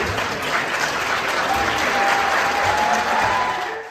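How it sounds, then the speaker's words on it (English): Arizona state Republican legislators applaud in the chamber after blocking repeal of the abortion ban, an even, continuous round of clapping with a faint steady tone beneath it. "The applauding you see there are state Republicans celebrating the fact that they blocked any effort to repeal the law"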